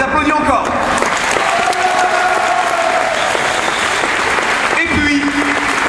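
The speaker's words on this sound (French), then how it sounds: "On les applaudit encore." Audience at a 2009 centenary celebration in Eloyes applauds the Jeune Garde band, a steady, dense wash of clapping from a crowd filling the room, with a voice speaking briefly at the start and again near the end.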